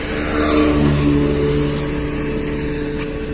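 A car engine hums steadily at close range and rises slightly in revs as the vehicle pulls away, with a continuous road rumble throughout and no talking.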